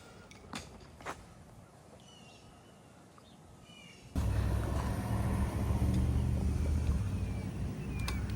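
A Tuttio ARC-I electric motorbike sets off on an outdoor test ride: a few faint knocks over quiet surroundings, then a sudden loud, steady rumble of motion and wind noise that continues to the end.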